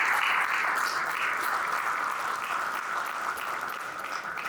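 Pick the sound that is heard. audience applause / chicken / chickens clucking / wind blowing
audience applause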